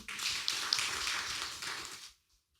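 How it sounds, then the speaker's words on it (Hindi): A congregation at a night vigil prayer service claps for Jesus, a dense, steady burst of applause for about two seconds that stops abruptly into silence. "ताली बजाइए यीशु के लिए"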